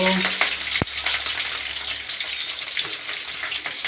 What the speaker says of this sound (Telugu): ఈరోజు నేను ఆయిల్ వేడెక్కింది చూడండి. జీలకర్ర వేస్తున్నాను.